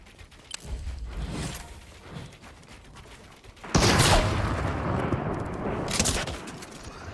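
A combat assault rifle fires in the video game Fortnite: quieter shots come first, then a loud, sustained burst of gunfire for the last few seconds.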